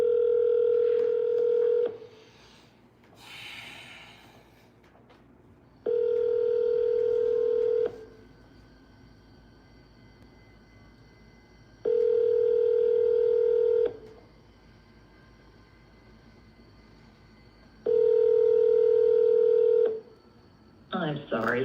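An outgoing telephone call rings out, the handset ringback tone repeating four times in long even bursts separated by pauses, with a brief burst of dialing tones early on.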